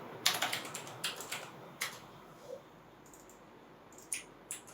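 Fingers tap on a computer keyboard in short, irregular bursts of close clicks, with quiet gaps between keystrokes and no talking.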